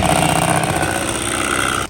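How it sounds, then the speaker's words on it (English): Close and steady, an electric mixer on its lowest setting whisks eggs into sponge cake batter, giving a continuous loud motor whir with no pauses. "And now we're going to whisk the second one."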